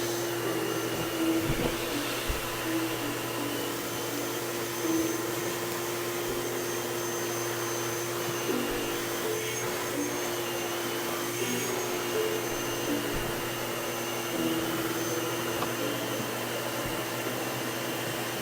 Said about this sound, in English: I know you'll get to hear a vacuum live.